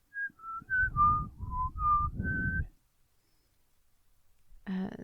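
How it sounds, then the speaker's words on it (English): A short whistled melody of several clear sliding notes, close and fairly loud, followed by silence and then a brief burst of other noise at the end. "Then you hear the same whistled melody again."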